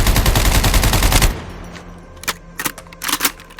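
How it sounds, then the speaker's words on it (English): M4 rifle in the game COD Mobile: a rapid full-auto burst of loud, closely spaced shots, then silence broken by a few short, sharp bursts and single cracks. "What do you think about the M4 firing sound?"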